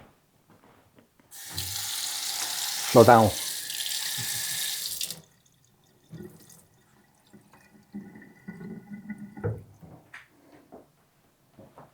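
A kitchen tap runs water into a cup for Korean fried chicken batter, a loud steady gush lasting a few seconds with a brief splash, followed by quieter clatter while a person speaks.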